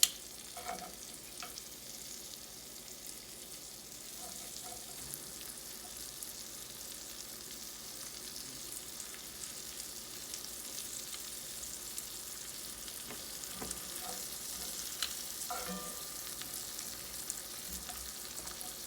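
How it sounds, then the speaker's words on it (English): Mushrooms fry softly in a pan for a spinach quesadilla while tongs flip them, giving a quiet continuous sizzle with occasional light clicks and scrapes. "take your thongs and start flipping around some of the mushrooms"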